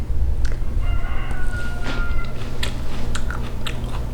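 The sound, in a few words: biting and chewing crispy homegrown radish sprouts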